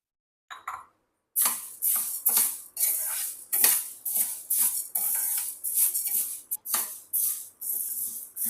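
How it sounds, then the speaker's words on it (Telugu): Urad dal dry roasting in a pan, a dry rattling and scraping as the lentils are stirred with a metal spoon in repeated close bursts, each with a bright clatter, after a brief quiet opening, with no talking. "మినపప్పు మనమైతే డ్రై రోస్ట్ చేసుకుందామండి."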